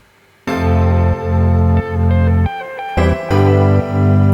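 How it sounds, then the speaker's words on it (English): A high, twinkly synth pluck traces stepping notes above a full bed of pads and low chords in a song arrangement, loud and bright with no voices. "So I added this pluck, which sounds like this."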